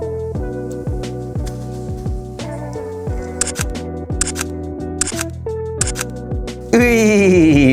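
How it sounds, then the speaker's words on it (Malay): A Kodak Charmera toy camera clicks repeatedly as its shutter fires, crisp mechanical snaps in a steady series against a sustained electronic hum, ending in a warbling chime-like tone. "Kita try ambil gambar."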